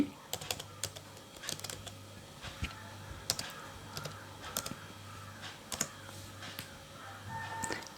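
Someone types a web search on a computer keyboard: quiet, irregular keystroke clicks in short bursts, close and alone over a faint background hum.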